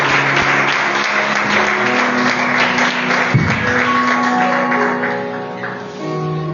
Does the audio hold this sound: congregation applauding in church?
yes